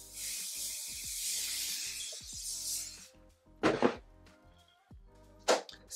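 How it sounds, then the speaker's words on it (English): A few short hiss bursts from an olive oil spray bottle misted over freshly set pin curls, following a longer stretch of soft rustling and handling noise, close and moderately loud. "I'm going to spray a little olive oil just to give it a little shine."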